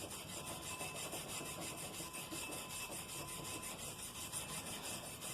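A brush scrubs an aluminum surface to prepare it for soldering without a welding machine, making a steady, fairly quiet, rhythmic scratching close by with no talking.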